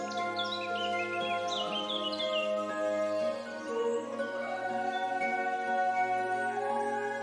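Birds chirp and trill in a flower meadow, a soft steady chorus of small calls over a sustained musical drone, with no talking.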